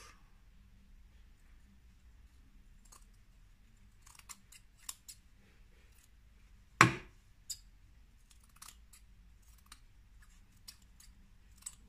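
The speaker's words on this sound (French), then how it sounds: "je vais découper ce qui dépasse après" Scissors snip once, sharp and close, trimming excess knitted yarn in a quiet room, with a few faint ticks and small handling noises before and after.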